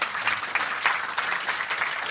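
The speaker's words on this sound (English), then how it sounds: "We are already getting a big round of applause" Audience applause after a water kefir lecture at a science slam; a brief burst of dense, lively clapping with a few sharper claps standing out, no talking over it.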